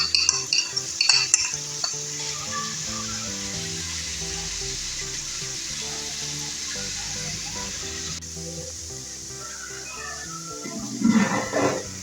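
Chicken and browned onions frying for a restaurant-style biryani give off a steady sizzle as garlic paste is stirred in, with clinks and scrapes of a spoon at the start and end, close by and without talk.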